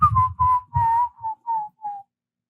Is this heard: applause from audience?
no